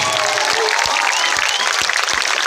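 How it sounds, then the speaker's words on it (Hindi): Dense clapping from a crowd at a political speech in Rajpur, Buxar, a loud, continuous patter of applause with faint voices mixed in. "बजा ली ताली"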